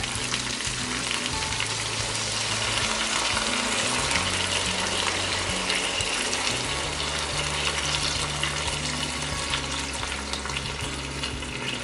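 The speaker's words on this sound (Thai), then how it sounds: "I'm going to add the rest of the coconut milk" Coconut milk goes into a pan of red curry with pineapple and shrimp, bringing a steady loud bubbling sizzle that persists throughout with no talking.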